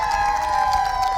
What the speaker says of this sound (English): I won't say the word because you'll all cheer again